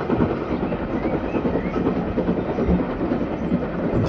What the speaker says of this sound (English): Once you get the nice authentic sound effects of trains running past outside